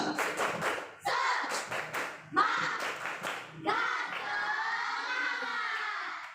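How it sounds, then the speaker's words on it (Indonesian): A class claps in a rhythmic spirit-clapping routine: groups of quick, sharp claps in set patterns, broken by short pauses, followed by children's voices chanting together. "tepuk semangat"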